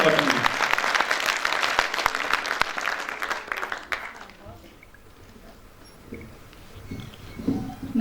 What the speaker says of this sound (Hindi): तालियां कम है, एक बार बड़ी तालियां दीजिए, हौसला दीजिए, हिम्मत दीजिए।